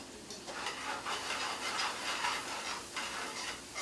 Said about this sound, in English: Right now I'm just sauteing.